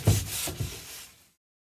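Sandpaper rubs by hand across a chalk-painted wooden dresser in a few quick, close rasping strokes over about a second before the sound stops.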